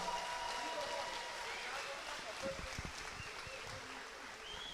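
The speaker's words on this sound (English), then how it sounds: "let's give them another round of applause" A crowd applauds and cheers at a Muay Thai fight night in Jacksonville, a broad, sustained roar of clapping and shouting with a few louder whoops and a brief voice rising through it.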